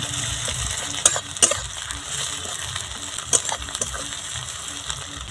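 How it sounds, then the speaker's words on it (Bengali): Garlic paste sizzles steadily in a pan with fried onions for Bengali chicken kosha, a continuous close frying hiss broken by a few sharp clinks and scrapes of a spoon. "রসুনটা একটু ভেজে নেব"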